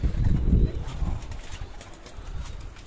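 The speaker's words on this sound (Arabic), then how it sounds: "اهو الحمام يا جدعان" Domestic pigeons coo on a rooftop loft in winter, a low, throaty burble that is loudest at the start and fades under a soft outdoor background, with someone speaking nearby.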